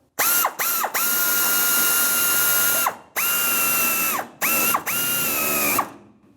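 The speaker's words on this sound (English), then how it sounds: "Now with my 8mm socket or 5/16, I'm going to snug up the bracket clamp." A ratchet fitted with an 8mm socket whirs in four long clicking runs with short pauses between them, close and loud, as it tightens a bracket clamp on the fuel filler neck of a 1992-1996 Ford F-150.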